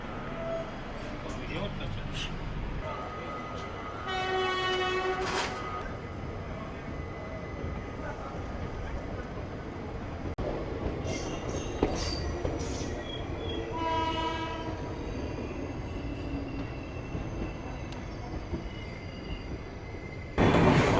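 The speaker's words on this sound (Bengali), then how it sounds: "চলুন, ডিপার্চার গ্রিন সিগন্যাল দেওয়া আছে, ট্রেন আমাদের এখনই ছেড়ে দেবে।" An Indian Railways Ballia–Sealdah Express pulls out of a station, horns sounding in several loud blasts over the rumble and squeal of the moving train, with people talking nearby on the platform.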